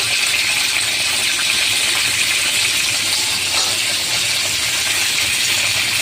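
Pointed gourd (potol) frying in a pan, a loud, steady hiss and sizzle of oil that carries on without a break, close up.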